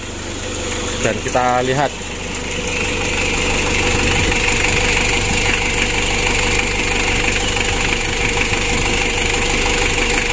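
A rebuilt 2017 Mitsubishi L300 diesel engine cranks briefly and catches, settling into a steady, loud clattering idle close by, with a voice speaking briefly as it starts.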